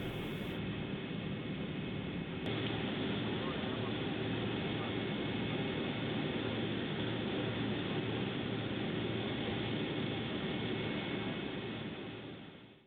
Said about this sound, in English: We're taxiing out to runway 34 today for takeoff.